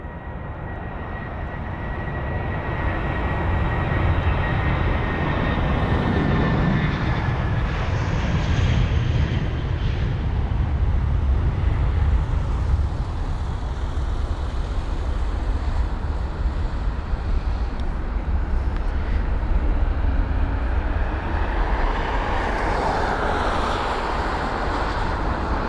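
A British Airways A320-200 jet takes off at London Heathrow, its engine roar building over the first few seconds and then holding loud and steady throughout, with wind buffeting the microphone.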